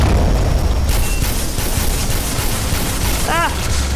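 Enemy gunfire and explosions in the video game Black Mesa make a dense, loud barrage of booms and rapid shots, with a short warbling electronic tone near the end.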